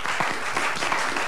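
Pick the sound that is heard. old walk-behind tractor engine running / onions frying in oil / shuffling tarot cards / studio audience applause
studio audience applause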